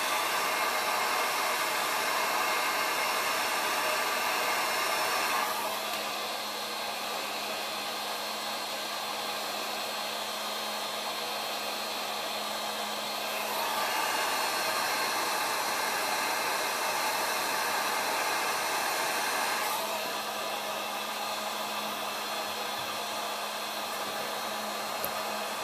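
A heat gun heating holster material blows a constant loud airy roar whose tone shifts slightly several times as it is moved between the two ends, with no talking.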